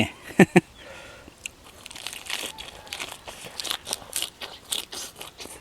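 Crispy food for a spicy Isan-style koi dish bitten close up: two sharp, loud crunches near the start, then a run of softer crackly chewing crunches.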